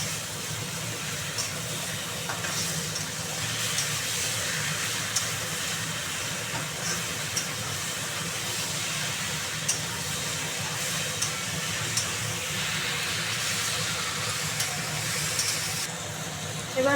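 Mushrooms being stir-fried in a pan for a mushroom curry, with a continuous dense hiss and sizzle, faint scrapes scattered throughout.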